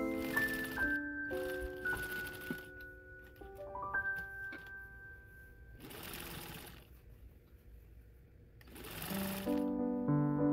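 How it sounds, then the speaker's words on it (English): A sewing machine stitches binding onto the sleeves of a 1950s-style blouse in steady mechanical bursts, with short pauses between runs and faint background music throughout. "Now I am sewing the binding onto the sleeves"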